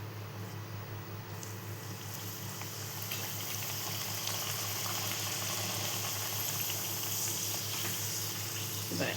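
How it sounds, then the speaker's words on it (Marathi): Mango puri dough frying in hot oil in a home kitchen, a steady, close bubbling sizzle that holds for several seconds with a faint hum beneath it. "आता दुसरी एक टाकूया आपण 3-4 तळूया."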